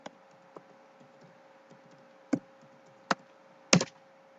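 A few sparse keystrokes on a laptop keyboard while a URL is typed into a web browser, faint clicks spaced out over a quiet hum, with a louder cluster of taps near the end.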